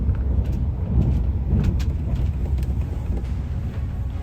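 A BMW M3 E46 Touring car engine rumbles steadily up close, with low broadband drive noise and faint clicks over about four seconds.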